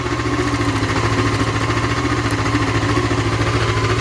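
A Honda CB500 motorcycle engine idles on choke, steady and close by, its rapid even pulsing holding a constant rumble throughout.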